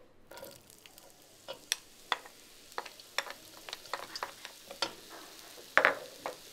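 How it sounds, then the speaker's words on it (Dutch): Garlic, chili pepper and onion frying in a pan, with repeated sharp scraping and clicking from stirring and a light sizzle underneath, the stirring knocks coming irregularly and growing louder near the end. "We starten met eerst de look, de chilipeper en de ui aan te bakken."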